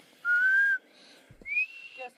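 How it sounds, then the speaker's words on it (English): A person whistles outdoors in a big-trees forest in Orick, California: a short steady tone, a pause, then a second rising whistle, fairly faint and alone. "I can barely tell you're whistling."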